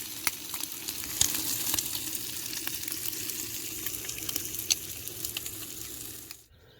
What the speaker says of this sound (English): now we got the onions and the bacon frying up